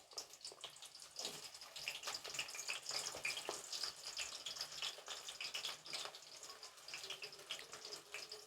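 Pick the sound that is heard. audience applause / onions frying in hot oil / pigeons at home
onions frying in hot oil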